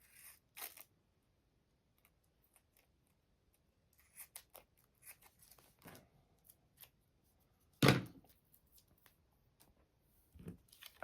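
Scissors trim a Mexican pocket tag, giving a few quiet, sparse snips and crisp clicks with near silence between them; no voices.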